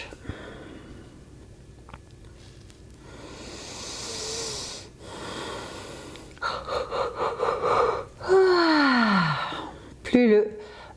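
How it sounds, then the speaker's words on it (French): Loud exhaled yawns during a yoga relaxation breathing exercise, several sighing breaths building to long vocal yawns with falling pitch near the end, close and clear. "Plus le bâillement est bruyant, et mieux ça sera."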